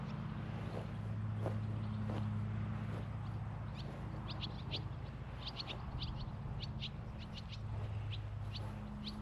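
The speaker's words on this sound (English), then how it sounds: "Bunch of birds up on that wire." Small birds perched on an overhead wire give scattered high chirps and tweets, faint and intermittent over a steady low outdoor hum with engine-like drone.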